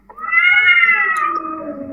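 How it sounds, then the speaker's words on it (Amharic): A feral cat lets out a single drawn-out meow, close and clear, rising then trailing down over about two seconds. "እነዚህ እኮ ቤተሰብ የላቸውም፣ የዱር ድመት ናቸው።"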